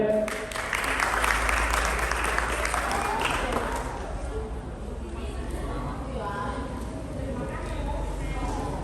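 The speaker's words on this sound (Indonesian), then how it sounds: "tepuk tangan untuk Mas Rehan." Sustained audience applause at an anti-bullying seminar held by police at a school in Boyolali, dense clapping filling the hall throughout and gradually thinning toward the end, with some crowd chatter mixed in.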